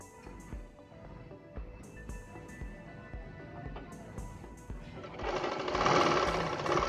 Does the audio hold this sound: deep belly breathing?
no